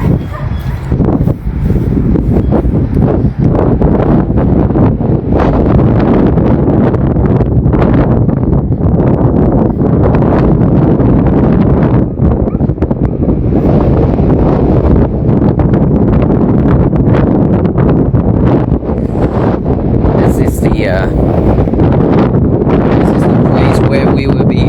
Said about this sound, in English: And these days are very windy.